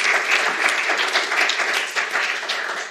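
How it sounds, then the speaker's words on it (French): An audience applauds after a talk at a workshop session, a dense, steady burst of many hands clapping close by that holds evenly for about three seconds. "oui, on peut applaudir."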